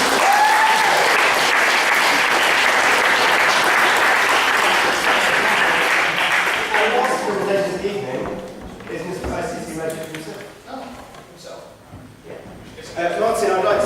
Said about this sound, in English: I want you guys to give yourselves a big massive round of applause.